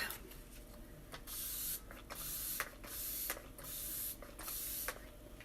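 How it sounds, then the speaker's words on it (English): Several bursts of makeup setting spray sprayed onto a face, each a loud aerosol hiss lasting about a second, separated by brief pauses and faint clicks of the nozzle. "We're going to set with our Touch Behold setting spray. Give it a little shake."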